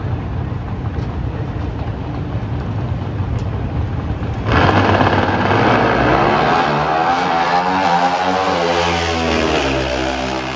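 Pro Stock motorcycles launch in a drag racing final at the NHRA Maple Grove Nationals, the engines droning at idle before erupting into a loud, rising high-revving roar as the bikes pull away down the strip.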